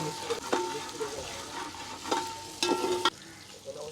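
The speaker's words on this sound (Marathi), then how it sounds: "हलवून घेऊया हे टमाटा आला लसूण पेस्ट ऐक भारी" Tomato and garlic paste sizzles in a pan with onions, part of a crab curry cooked over a wood-fired chulha in Dadar; a steady close frying hiss runs under a few louder stirring scrapes and clatters.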